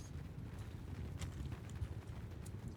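Cavalry horses gallop across a battlefield in Mount & Blade 2: Bannerlord, a dense, steady drumming of many hooves filling the clip with scattered sharp clatters on top and no talk.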